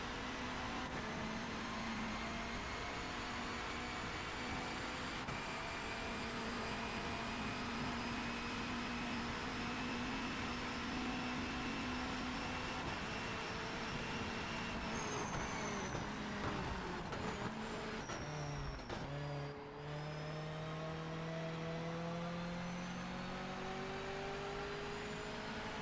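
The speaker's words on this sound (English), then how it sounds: "In a stick shift Mazda MX-5." A manual-gearbox Mazda MX-5 in the racing video game Project Motor Racing drones along at moderate volume. The engine tone climbs, then breaks at gear shifts near the end and settles into a lower pitch.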